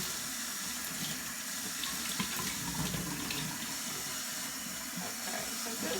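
Running tap water pours steadily as a carpet cleaner's small tank filter is rinsed beneath it, a continuous close splashing hiss with no talking.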